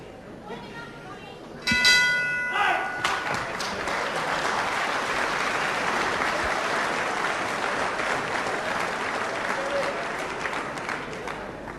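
At a televised professional wrestling bout, a ringing round bell sounds several quick times, and a large crowd breaks into loud, sustained applause and cheering that keeps going until the end.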